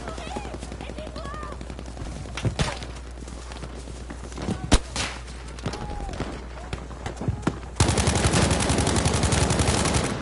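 Rapid gunfire from a first-person shooter video game, bursts and single cracks scattered through the clip and growing into a dense, loud volley near the end, with a player's voice and game sounds mixed in.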